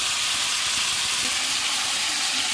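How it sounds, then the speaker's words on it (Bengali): Water poured into a hot pan of Bengali mixed-vegetable curry gives a loud, continuous steamy hiss and sizzle with no breaks and no voices. "এবার দিয়ে দেবো পরিমাণ মতন জল"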